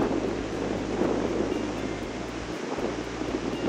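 Strong wind roars across an open golf course at a seaside resort in Mauritius, a steady, loud rush buffeting the microphone with no speech.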